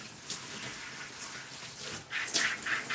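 Steady shower water runs and splashes while hair and styling tools are rinsed, a soft continuous spray with brighter splatter near the end.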